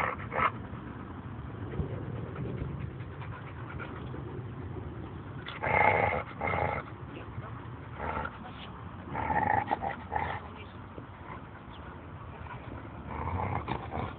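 A Thai Ridgeback dog growls off to the side, a low rumbling snarl that swells in short bursts over steady background noise.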